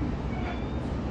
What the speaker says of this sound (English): Train, mm-hmm. And now we're riding.